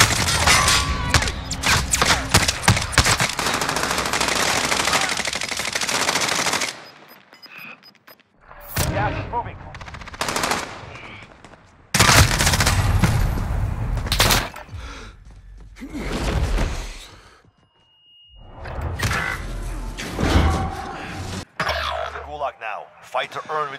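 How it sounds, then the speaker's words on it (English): Rapid bursts of gunfire in a battle royale video game, loud, sharp volleys broken by short quiet gaps, with players talking over the shooting. "I'm taking fire!"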